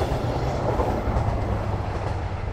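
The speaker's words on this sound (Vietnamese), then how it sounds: "Rồi, thôi, ngắm xe lửa vậy đủ rồi." A long freight train rolls past on a railway in Vietnam, a loud, steady rumble with rhythmic wheel clatter close by and no voices over it.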